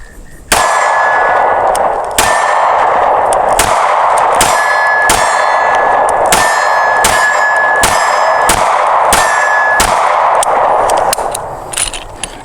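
A SCCY CPX-2 9mm pistol fires about a dozen sharp, loud shots at an uneven pace, each crack followed by a ringing metallic clang, with no talking over the shots.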